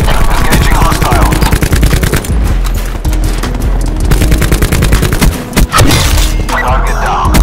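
Sustained automatic gunfire from deployed shooters in a Call of Duty match on Nuketown, rapid loud bursts of shots and thuds running almost continuously, with brief lulls and a faint game voice underneath.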